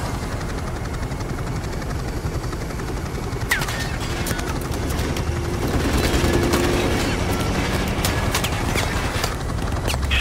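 Sustained gunfire and a thrumming helicopter fill a Call of Duty Modern Warfare Remastered mission, with dense bursts and crackling shots layered over the constant rotor roar at close range.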